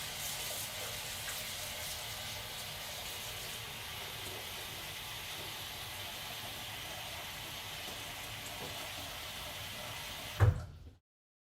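Cold tap water pours steadily into a pot holding potatoes, a continuous broadband rush heard close up and without talk, ending in a brief clunk as the flow stops.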